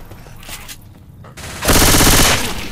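Machine gun fire in Left 4 Dead 2 against zombies: after some quieter game clatter, a loud continuous burst of rapid automatic shots erupts and sustains for about a second, close and dense.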